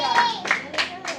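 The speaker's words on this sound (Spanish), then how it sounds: "Denle un fuerte aplauso a Jesús y alabe a Jesús." A church congregation claps in a quick, even rhythm of four beats during a sermon, the strikes sounding close and echoing slightly in the room.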